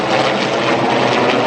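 Three vintage Navy warplanes, including a Skyraider and a Skyhawk, roar past at an airshow with tailhooks lowered, a loud, dense, steady propeller-and-engine drone close overhead.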